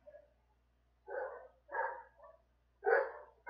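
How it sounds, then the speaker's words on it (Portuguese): A big dog barks in several deep, separate bursts with short pauses between them, heard at moderate distance with no one talking. "Eita, o cachorrão tá loucão."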